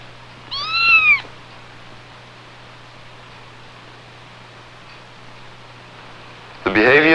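A laboratory cat, given a drug injected into the brain region governing aggression and fear, lets out a clear meow, then another sharp meow at the end, over a steady fan-like hum.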